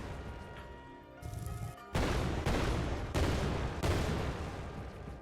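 An explosion ability goes off in a video game: a sudden loud blast followed by several more heavy crashing bursts in quick succession, close and dense, with no talking.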